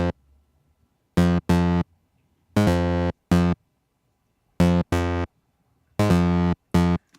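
One part of a split electronic bass line plays in short synthesized notes grouped in pairs, four pairs with silent gaps between them, bright and buzzy with strong harmonics, alone and clear.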